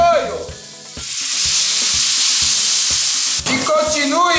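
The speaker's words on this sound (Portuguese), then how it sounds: "Agora você pode pôr o molho shoyu" Soy sauce poured into a hot pan of chicken stir-fry, setting off a loud, sustained sizzle that rises and holds, with rhythmic clinks of a utensil stirring against the pan throughout.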